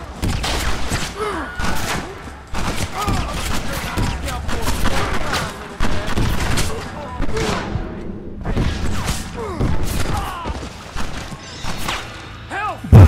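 Gunfire in Red Dead Redemption, with a dense run of loud, close shots and impacts hammering almost without pause across a chaotic firefight, and a voice speaking at times over it.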